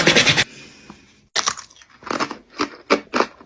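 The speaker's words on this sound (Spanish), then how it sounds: "No había nada más crujiente que comer." Crunchy food is bitten and chewed up close, a series of loud, crisp crunches in irregular bursts separated by brief pauses.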